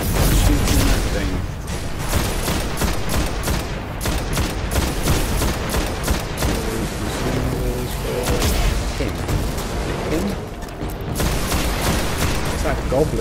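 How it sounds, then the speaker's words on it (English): Gunfire in the PS4 game Destiny, bursts of rapid shots mixed with heavy booms and blasts throughout a loud, busy combat scene, with a voice talking over parts of it. "Shooting that thing."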